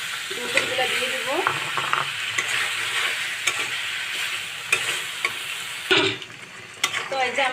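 Sponge gourd being stir-fried with potatoes in a pan for a pabda fish curry, a steady loud sizzle broken by scraping stirs and occasional clanks of the utensil, with no voices.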